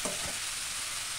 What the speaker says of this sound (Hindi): अब बैंगन को भी यहाँ पे भून लेंगे।